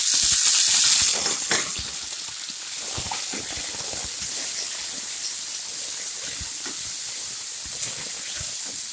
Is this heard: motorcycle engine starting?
no